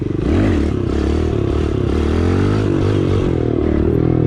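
Kawasaki KLX 110L dirt bike engine droning steadily and loudly at close range while being ridden, with a continuous throaty hum that rises and falls slightly in pitch.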